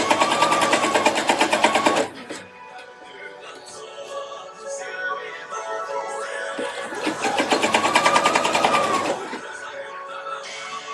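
A sewing machine runs fast, basting fabric that it tends to gather, in two loud sustained bursts of stitching separated by a quieter pause.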